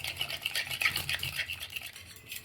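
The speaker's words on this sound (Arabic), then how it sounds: "نضرب كويس جيدا بقى كده" Batter with a splash of vinegar for an orange cake is whisked briskly in a bowl, a steady rapid scraping and swishing that runs continuously, close and moderately loud, with no voices.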